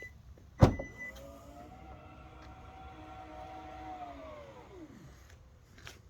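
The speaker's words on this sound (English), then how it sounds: "You got a powered tailgate." Powered tailgate on a Kia Stinger GT hatchback: a sharp latch clunk, then a smooth whirring motor hum lasting about four seconds before winding down and stopping, close and clear.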